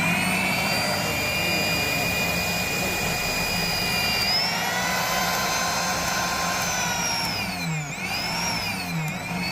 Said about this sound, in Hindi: मोटर हमारी चल चुकी है और हाई लो भी हो रही है